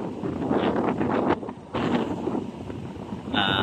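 Steady wind blowing across the microphone in Pasay, Manila, a broad rushing roar with gusty swells and a brief dip midway.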